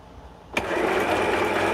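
A Dechow portable sewing machine starts up and runs a tight zigzag stitch, a steady fast whirring hum kicking in abruptly and continuing close and loud.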